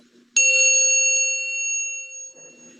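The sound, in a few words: small bell ringing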